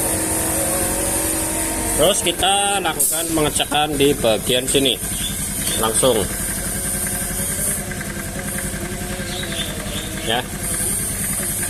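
A faulty motorcycle with its pulser connected during fault-finding runs at a steady, even idle throughout, while someone talks over the engine.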